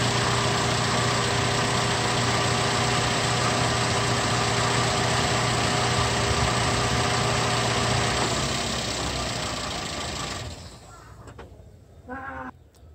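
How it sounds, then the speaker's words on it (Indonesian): Car engine idling steadily with a constant hum, close by, for about ten seconds, then it is switched off and fades to near silence, followed by a brief faint sound at the end. "saya akan matikan dulu mesin mobilnya"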